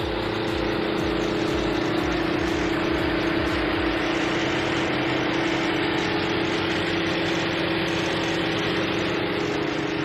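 A 2020 Mercedes-Benz G63 AMG engine idles steadily under an open hood, a loud, constant low rumble with a strong steady hum that stays unchanged for the whole stretch, with no talking.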